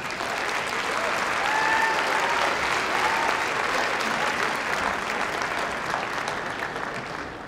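Steady, full applause from a large concert audience at a district music festival greets the evening's master of ceremonies, a school superintendent, sustained and even throughout with a faint murmur of voices beneath.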